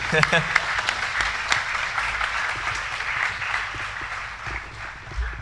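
Audience clapping and applauding at a hospitality school semester orientation, a dense, steady patter of many hands throughout, with a voice faintly audible underneath.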